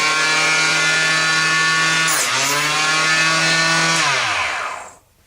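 A power saw runs loud and close as its blade cuts through a wooden dowel, a steady whining drone that dips briefly under load mid-cut, then spins down and fades to silence at the end.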